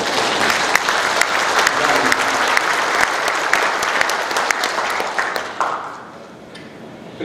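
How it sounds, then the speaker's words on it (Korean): A crowd at the book launch of Icheon mayor Eom Tae-jun's "Good Morning Icheon" breaks into full, steady applause that carries for several seconds before tapering off. "여러분들 잘했다고 생각하면 박수 한번 보내주세요."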